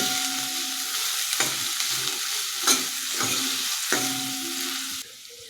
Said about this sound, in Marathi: आता आपल्याला कांदा लो टू मिडियम गॅसवरतीच थोडासा गोल्डन ब्राऊन होईपर्यंत परतून घ्यायचा आहे